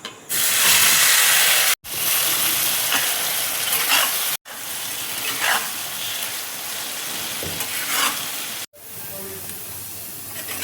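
Chopped bottle gourd hisses loudly in hot oil with fenugreek seeds, nigella seeds and a dried red chili, a dense close sizzle broken by a few brief cuts and easing slightly as it goes.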